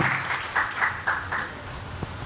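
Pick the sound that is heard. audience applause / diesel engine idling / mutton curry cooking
audience applause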